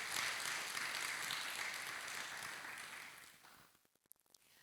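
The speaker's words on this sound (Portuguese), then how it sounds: "Você pode aplaudir a palavra?" A church congregation applauding at a sermon, a broad, sustained wash of clapping that fades away near the end, with a few last scattered claps.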